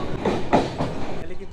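A crowded Namkhana local passenger train runs near Kolkata with a steady rolling rumble and wheel clatter, while a person talks over the noise inside the carriage.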